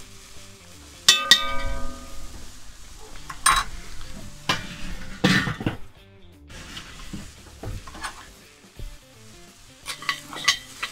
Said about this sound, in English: just want to give it a stir, make sure nothing's catching